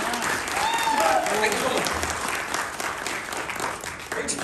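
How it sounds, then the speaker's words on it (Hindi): Loud audience applause at a motivational talk, a dense sustained burst of clapping throughout, while someone speaks briefly over it in the first seconds. "एक बार जोरदार तालियां सबके लिए"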